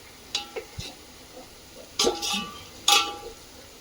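Onions deep frying in oil for a veg biryani, a faint background sizzle broken by a few sharp spoon clinks and scrapes against the pan, close up with no talking.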